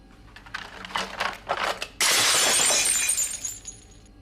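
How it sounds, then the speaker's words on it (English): Glass shatters loudly in a sudden burst that crashes in and then rattles and tinkles down for about two seconds, following a few faint, scattered clinks. "Watch out for the broken glass."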